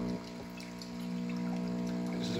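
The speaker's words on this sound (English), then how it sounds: "I'll pour milk into this." Milk poured into a pitcher while making a cappuccino, a steady liquid stream running continuously under a loud machine hum, growing slightly louder as it fills.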